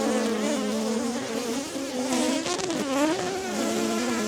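Honeybees swarm around an open hive, a dense, close, continuous buzz with wavering pitch as individual bees pass near.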